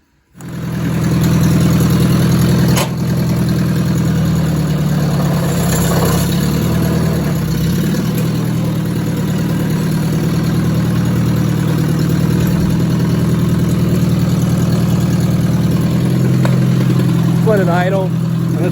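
The engine of a vintage piece of farm equipment settles into a steady, loud, low idle right after starting up, a constant rumbling drone that runs throughout with little change.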